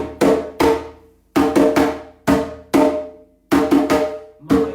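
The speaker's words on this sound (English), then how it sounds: "transfer that onto a djembe head, it would, the 3-2 clave would sound like this." Sharp djembe strikes in a syncopated 3-2 clave pattern, each hit ringing briefly before decaying, played alone and close.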